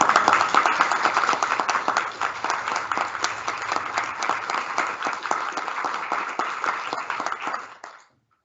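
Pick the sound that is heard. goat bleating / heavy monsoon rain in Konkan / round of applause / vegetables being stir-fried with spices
round of applause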